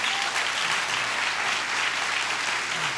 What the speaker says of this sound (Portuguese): Dê uma salva de palmas agora